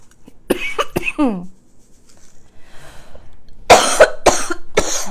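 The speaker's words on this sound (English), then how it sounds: "Hopefully this coughing attack leaves me quickly." A person coughs in a harsh fit: several sharp coughs with a strained catch, a quiet pause, then another loud burst of close hacking coughs.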